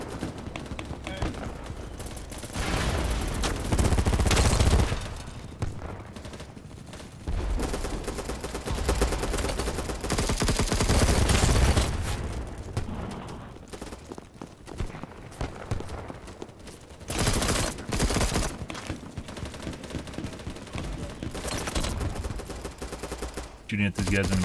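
Rapid bursts of video game gunfire crackle loudly in repeated volleys, broken by short lulls, with a player talking over the shooting.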